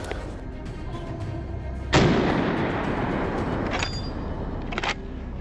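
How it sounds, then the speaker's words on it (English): A rifle fires a single loud shot during a wild boar hunt. A sharp crack is followed by a long rumbling echo that decays over several seconds, with a few faint clicks after it. "The bullet strikes true."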